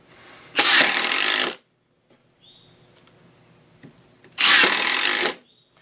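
A Milwaukee M18 compact cordless drill drives sheetrock screws in two loud, short whirring bursts about a second long each, separated by quiet clicks and handling noise.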